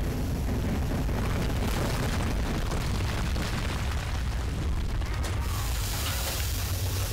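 A bomb goes off in the video game Overlord, a dense, sustained low rumble of blast and debris that fills the whole stretch at a steady level, with game mechanism noise mixed in.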